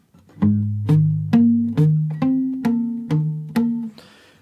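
Palm-muted electric guitar picks a riff, each note short and damped with a percussive attack, eight plucks in a steady rhythm, close and solo.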